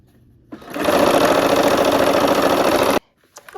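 A sewing machine stitches quilt pieces together in one continuous burst of about two and a half seconds, a close, steady mechanical whir that starts and stops abruptly, with faint handling sounds after.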